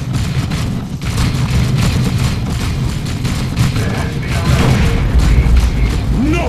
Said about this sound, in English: Brace yourselves for the bomb!